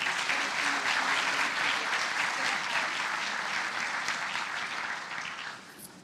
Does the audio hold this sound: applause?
yes